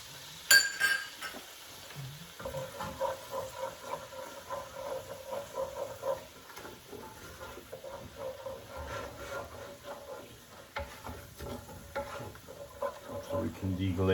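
Wine splashes into a pan of steak drippings to deglaze it, and a moderate sizzle follows under stirring, with scattered metallic clinks of utensils against the pan.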